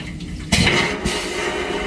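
Toilet on a Thai train between Nong Khai and Bangkok flushed by pressing a button, a sudden loud rush of water and suction that holds steadily, close in a small compartment.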